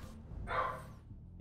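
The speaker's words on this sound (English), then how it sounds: "Dogs are going a bit nuts." A single short bark from a household dog, Maggie or Mojo, rings out fairly faintly in a quiet room, with a hint of another just starting at the end.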